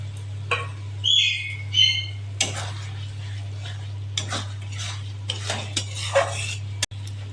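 A spice masala with tomato is stirred and scraped in a pan, with repeated metallic clinks and scrapes of a spatula on the cookware, close and fairly loud over a steady low hum.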